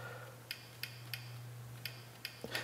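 Faint, crisp clicks from an iPad speaker as the AC-7 Pro DAW controller app moves mixer faders: about seven light ticks at irregular intervals over a steady low hum, with no talking.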